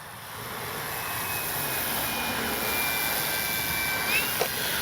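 An FMS Fox 3m RC glider flies past under power at just under half throttle, giving a steady whining drone that swells gently and holds for several seconds, heard alone outdoors.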